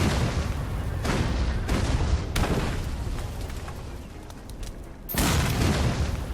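A series of heavy booming explosions in Assassin's Creed Syndicate, broad rumbling bursts, several close together, then a loud final blast after a brief lull.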